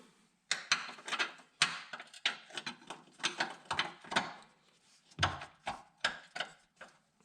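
Wrench working loose the rear lower control arm bolt, a 21 mm nut and bolt on a 2007–17 Jeep Compass/Patriot front suspension: a run of sharp, close ratcheting clicks and metallic clunks in irregular bursts, with no talking.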